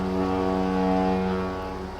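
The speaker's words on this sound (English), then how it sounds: "The engines start, we sail on." Fishing ship engines rumble steadily at close range, a loud continuous low drone with strong steady harmonic tones, swelling slightly midway and easing toward the end, with no voices.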